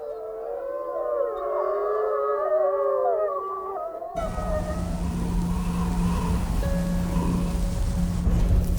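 A wild wolf pack in Yellowstone's Lamar Valley howls together after a victory, several long, wavering voices overlapping for about four seconds before giving way abruptly to a steady low hum and faint noise.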